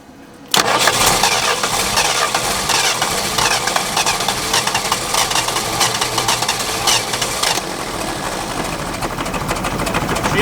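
A 1980s Yale/Eaton forklift engine cranks and catches abruptly, then settles into a loud, steady, rattling idle close by, with no talk over it.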